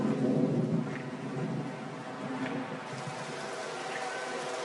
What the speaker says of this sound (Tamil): மழை வந்துடுச்சு.